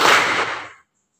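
A classroom of students claps on their teacher's cue, one loud, crisp burst of many hands together that rings briefly and then cuts off into silence.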